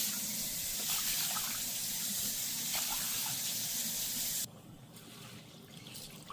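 Water pours steadily into a pot of wild black rice, a close, rushing gush that runs for about four seconds and then cuts off abruptly, leaving a faint trickle.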